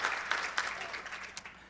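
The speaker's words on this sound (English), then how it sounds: "I will applaud to her and her work." Audience applause at the Q Christian Fellowship conference, a moderate burst of clapping that thins and fades over a second or two, heard at some distance.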